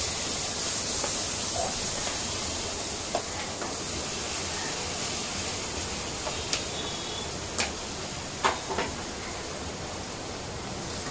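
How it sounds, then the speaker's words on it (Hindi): Chopped onions fry in melted butter for pav bhaji, giving a steady close-up sizzle with a few faint clicks and stirring taps scattered through it. "सबसे पहले हम इसमें कटे हुए प्याज को डाल देते हैं।"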